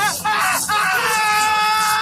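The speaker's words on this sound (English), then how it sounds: "One tried to get in, but when his hand touched the ship, he screamed." A man's loud, sustained scream used as a dramatic sound effect in a narrated English story, heard alone for about two seconds.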